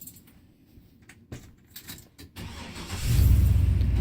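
Inside a 2004 Fleetwood Fiesta 32S motorhome, keys jangle and clicks sound before the engine turns over and settles into a loud, steady rumbling idle.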